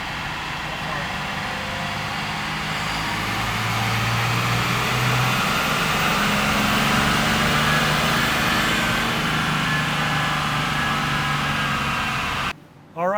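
A 3rd Gen Common Rail Cummins diesel truck runs steadily on a dyno at high RPM, with a loud, sustained engine roar and drivetrain whine that builds for about twelve seconds, then cuts off abruptly at the end.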